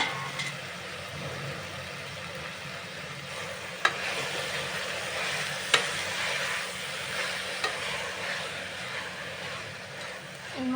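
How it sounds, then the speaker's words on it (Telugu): Gongura leaves are stirred in a cooking pan over a soft, steady sizzle with faint scraping and a few sharp clicks from the utensil, all under a constant low hum. "ఈ క్లీన్ చేసి పెట్టుకున్న గోంగూరని యాడ్ చేసేసుకొని ఒక 2 మినిట్స్ కలుపుకున్న తర్వాత"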